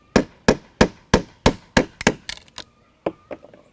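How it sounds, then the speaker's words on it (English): Sharp hammer blows drive an old screwdriver into wood to chisel out a notch for a raised garden bed: about seven evenly spaced loud strikes, then a quicker cluster of lighter taps and a few scattered knocks, close up with no talk. "just take a hammer and an old screwdriver"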